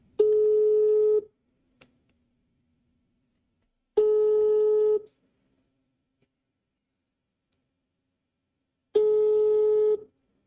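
A phone call rings out on speakerphone with three long, even ringback tones separated by silent gaps, clear and fairly close with no talking.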